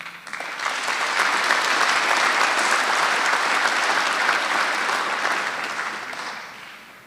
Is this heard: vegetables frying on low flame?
no